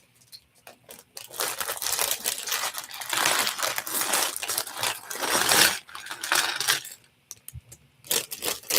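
The plastic bag from a LEGO Star Wars Wicket the Ewok set crinkles and rustles close by in long bursts, stopping briefly and starting again, with sharp crackles toward the end.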